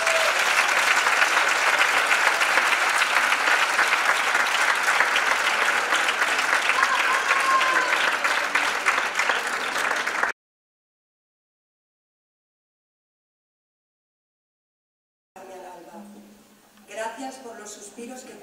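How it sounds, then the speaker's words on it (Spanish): A concert audience at a university tuna competition in Dos Hermanas, 2018, gives loud, sustained applause for about ten seconds. It cuts to silence, then faint speech follows. "quiero, por favor, que recibáis con un fuerte aplauso a la tuna femenina universitaria"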